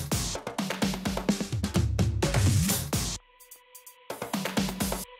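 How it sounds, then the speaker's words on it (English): Acoustic drums play busy fills of rapid snare and tom hits with cymbal crashes, a brief pause with a held tone, then more drum hits, programmed for a dark progressive house track in FL Studio 20. "Then add the acoustic drum fills."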